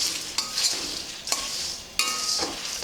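Spices and curry leaves dry roasting for bisibelebath powder, a steady dry sizzle broken by three sharp stirring scrapes at a regular pace, up close with no talk.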